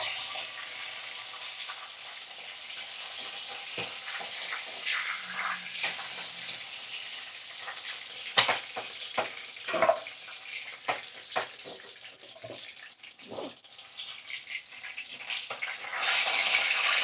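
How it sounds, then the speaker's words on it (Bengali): Chicken pieces coated with salt and turmeric fry in oil in a pan, a soft, steady sizzle with scattered sharper crackles and clinks, fairly quiet and close, with no speech. "এইভাবে দেখো সমস্ত চিকেন আমি তেলের মধ্যে দিয়ে ভাজা ভাজা করে নেব"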